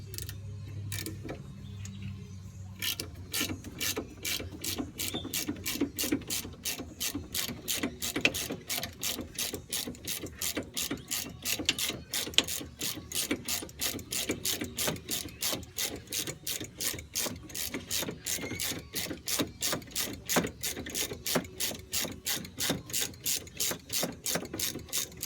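A ratchet wrench loosens brake caliper bolts on a 2004 Chevy Impala during a rear brake job, giving a long, steady run of fast, even clicks that carry on for about twenty seconds, close and clear with no talk.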